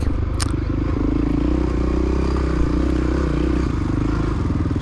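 A Honda XR600R motorcycle on a motocross track at a cross-country race sends out a continuous loud engine drone with rattling and a brief sharp clatter near the start.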